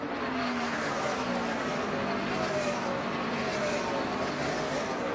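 Stock cars at a 2009 NASCAR race at Texas, a car slowing onto pit road; a steady engine roar with harmonic whine drones throughout, with broad crowd and track noise.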